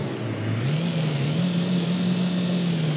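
BMW i8 engine revving in the City Car Driving video game, a loud steady engine drone with the pitch climbing and wavering slightly as the car accelerates.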